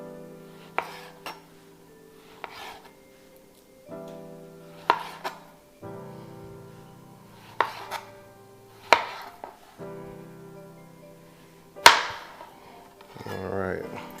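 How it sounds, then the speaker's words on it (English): A kitchen knife cuts food into angled slices on a board. A series of sharp, distinct chops comes at irregular intervals, close and clear over a quiet background. "I'm just gonna cut it at an angle. Nice little slices."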